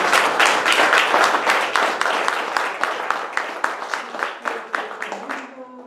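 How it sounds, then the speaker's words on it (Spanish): Audience applause in a theatre during a magazine launch event, a burst of claps that starts dense and loud, then thins into scattered individual claps as it fades. "pido un aplauso para ellos"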